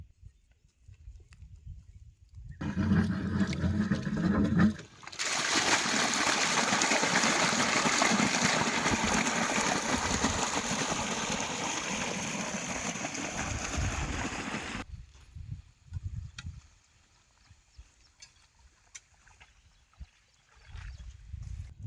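A pump motor sends a strong, steady rush of water roaring into a sugarcane field for about ten seconds, with quieter rumbling and knocks before and after.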